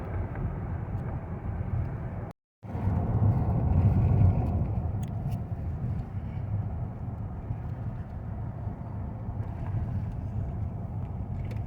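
A car drives through a back alley in Alamogordo, New Mexico, its engine and tyre rumble steady and low from inside the cabin, with a brief dropout early on.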